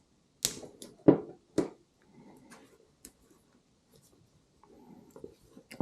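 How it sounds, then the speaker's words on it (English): Electrical tape wrapped snugly around a waterproof connector for e-bike accessory wiring makes several sharp, close tearing and sticky crackling bursts, separated by quieter handling rustles. "Get it nice and snug, and we're going to wrap it in electrical tape again."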